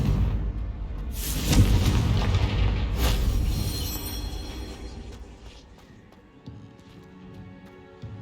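A Confringo fire spell explodes in a Harry Potter video game, a loud booming blast with a rumbling tail, followed by a second burst that fades into quieter game ambience.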